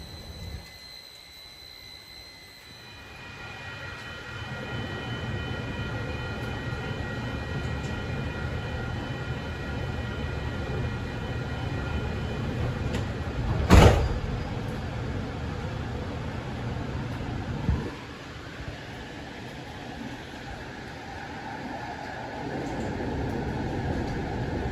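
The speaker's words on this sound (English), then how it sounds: "I'm gonna board the light rail train headed for downtown San Jose" A light rail train in San Jose rumbles along with a steady low roar that builds and holds, punctuated by a sharp screech or clank midway and a few rattling bumps.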